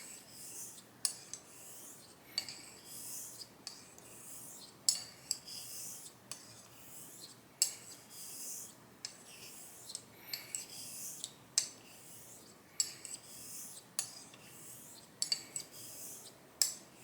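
A Shumate straight razor strokes back and forth across a wet Chinese natural whetstone, making a soft rhythmic rasping hiss, each pass ending in a light click, steady and close, with no talk.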